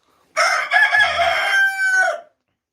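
A farmyard rooster lets out one long, loud, close crow lasting nearly two seconds, rising and then trailing off, with silence before and after.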